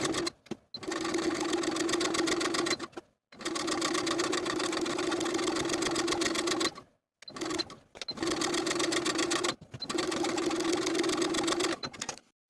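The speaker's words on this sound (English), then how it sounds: "we're going to sew along the bottom of the yoke from one side to the other" A home sewing machine stitches through both layers of a garment yoke and its seam allowance, running in four steady bursts with brief pauses between them, close and even, with no talking.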